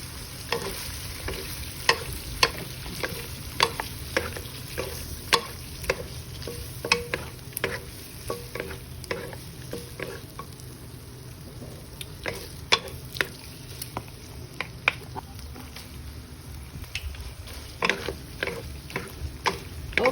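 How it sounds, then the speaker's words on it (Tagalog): Shrimp and patola gourd with salt, soy sauce and oyster sauce simmer in a pan, a steady soft sizzle broken by frequent small clicks and scrapes of stirring, close and continuous with no voices. "we're gonna simmer for a few minutes"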